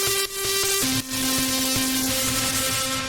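A heavy lead guitar preset in Ableton, run through an amp and overdrive for melodic dubstep, holds distorted, sustained notes. The pitch steps down to a long held tone, loud and alone.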